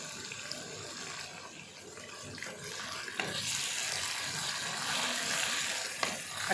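Chicken hits hot oil in a pan over a full high flame, giving a steady, fairly quiet hiss and sizzle with a slight crackle, with no talk over it.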